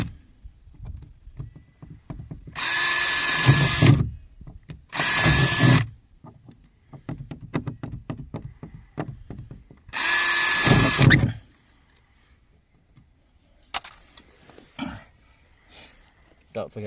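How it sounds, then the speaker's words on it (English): A power drill bores holes into a fibreglass boat part in three loud whining bursts of about a second each, separated by pauses with handling clatter and quiet talk. "Have a go at drilling some holes in it"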